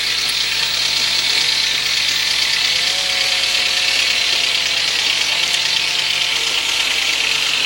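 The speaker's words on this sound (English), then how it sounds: "Another form of wood sawing here." A power saw cuts through wood in a steady, loud, continuous mechanical whine with a rough buzzing edge that holds throughout, with no voices.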